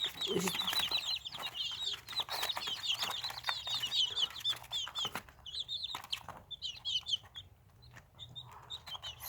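Young chicks peep in rapid high chirps alongside hens clucking nearby, with occasional wing flaps and rustling in a quiet coop.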